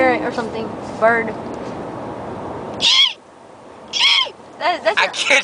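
A person's voice imitates a bird, giving a few short, high warbling calls in separate bursts after a stretch of talk.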